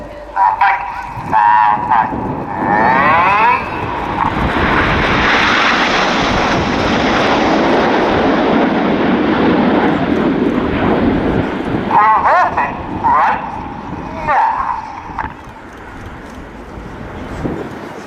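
Red Arrows BAE Hawk jets fly a close display formation, their engines building into a long, loud roaring rush before fading, with honking geese and a commentator talking throughout.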